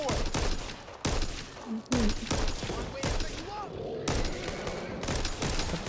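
Rapid bursts of gunfire from weapons in the Back 4 Blood co-op shooter, loud and repeated across the whole stretch with short gaps, while players talk over the shooting.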